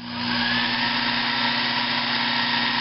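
Sherline lathe turning a metal venturi sleeve for an IHC engine, using aluminum cutting oil sparingly; a steady, continuous whirring hum with a strong motor drone and hiss, constant and close throughout with no talk.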